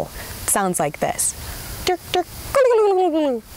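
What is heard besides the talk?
wild turkey gobble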